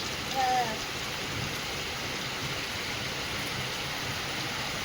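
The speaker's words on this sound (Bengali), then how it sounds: "কি সুন্দর লাগছে দেখো, বৃষ্টি পড়ছে" Steady rain falls on a straw-thatched roof, a dense, even hiss that holds at the same level throughout, with a brief faint voice near the start.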